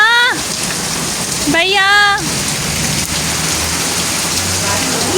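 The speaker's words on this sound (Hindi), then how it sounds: "देखिए यहाँ बारिश हो रही है।" First monsoon rain in Karachi, steady heavy rainfall hissing on surfaces close by, loud and unbroken throughout, with a person speaking briefly and voices in the background.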